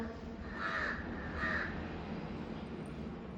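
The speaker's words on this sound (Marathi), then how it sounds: "ते कावळे लागलेत पाठी तिच्या" Crows chase another bird, giving two loud, harsh caws close by over a faint murmur of background noise.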